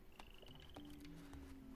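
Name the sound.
huge frog croaking in the video game The Plucky Squire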